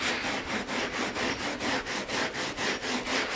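A stiff brush scrubs carpet pile during an interior cleaning, making a steady rhythmic back-and-forth rasp of about four strokes per second, close and continuous with no talking.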